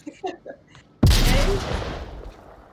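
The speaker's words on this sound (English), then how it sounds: "Oh, another nade comes down." Grenade blast in the VR shooter Onward during a competitive match: a sudden loud boom with a long decaying rumble, after some faint game sounds.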